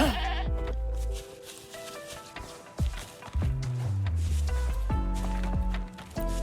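A goat in the video game Wuthering Waves bleats several times in wavering cries, mixed with in-game footsteps and effects.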